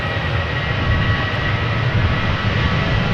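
Ryanair Boeing 737-800 jet taking off from runway 24 at Amsterdam Schiphol Airport, a loud, steady roar of engine noise with broad rumble and hiss, no voices.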